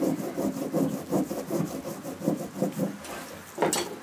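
Green polishing compound rubbed onto cowhide fixed to a board, a rhythmic back-and-forth scrubbing of short, close, dry strokes, with a sharper swipe near the end.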